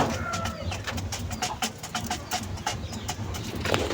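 Pigeons feeding at a breeder's loft coo softly in low, repeated calls beneath a busy bed of pecking, shuffling and wing noise, with steady background clatter throughout.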